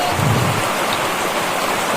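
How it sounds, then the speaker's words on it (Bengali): Rain falls steadily in the countryside, a dense even hiss close by with a low rumble near the start, and no voices. "কিভাবে বৃষ্টি হচ্ছে দেখছো?"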